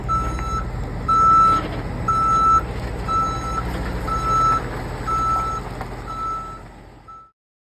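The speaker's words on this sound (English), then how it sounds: "those beeps don't mean to let me know that you're backing up on side me" A truck's reversing alarm beeps steadily, about eight evenly spaced tones over a low idling tractor-trailer engine rumble, ending abruptly.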